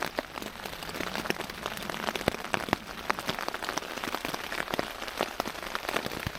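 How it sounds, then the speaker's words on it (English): Rain patters steadily on a tent at night, with a dense, even wash of drops and sharper individual taps heard from inside at close range, and no talking. "it's literally just started to rain as I've got in"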